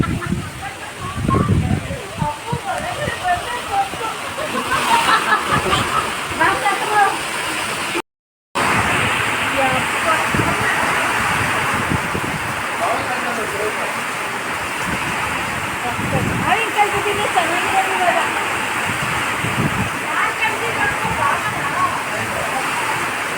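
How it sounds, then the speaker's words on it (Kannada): Heavy wind and rainstorm outdoors, a loud, continuous roar of gusting wind and pouring rain that swells and eases, with people talking faintly under it. "ತುಂಬ ಹೆವಿ ಗಾಳಿ ಮಳೆ ಎರಡು ಜೊತೆಲಿ ಬರ್ತಾ ಇದೆ"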